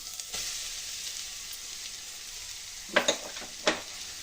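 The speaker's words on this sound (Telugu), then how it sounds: "ఈ క్యారెట్ని కలుపుకుంటూ కొంచెం కుక్ చేసుకోవాలండి పచ్చివాసన పోయేంత వరకు" Grated carrot stir-fried in a pan for carrot sago payasam gives a soft, steady sizzle, with a few sharp spatula scrapes and taps near the end and no talk.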